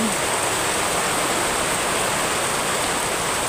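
Heavy rain pours steadily in Bicol, Philippines, as a dense, even hiss, with no other sounds.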